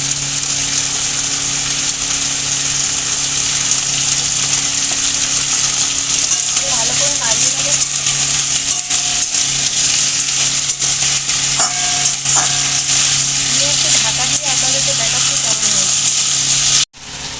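Cucumber curry (shukto) being stirred with salt in a pan, a steady broadband sizzle with scraping stir strokes and a low background hum running throughout, ending abruptly.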